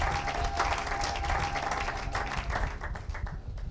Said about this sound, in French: Acclamez pour la gloire de Jésus